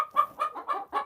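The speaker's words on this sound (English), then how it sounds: "I have 3 white leghorns all clucking right now. These things are so loud." Three white leghorn chickens cluck loudly and close by in a rapid series of about five harsh, nasal bursts, with no other sound between calls.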